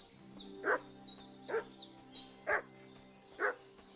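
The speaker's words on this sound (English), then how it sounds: "What's that dog making such a fuss about?" Dog barking in the video game Kingdom Come: Deliverance II, four evenly spaced barks at middle distance over a steady ambient hum, with sharp chirping calls between them and no talking.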